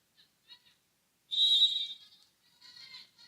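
A referee's whistle sounds before a serve at a college volleyball match between Pensacola Christian and Toccoa Falls: a sharp, shrill blast near a second long, preceded by faint chirps and followed by softer trailing tones.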